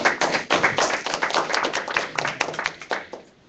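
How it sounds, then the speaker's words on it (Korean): An audience at a Korean business seminar lecture claps together, a dense run of close, sharp hand claps that thins out and fades to quiet at the end. "박수 한번 주십시오."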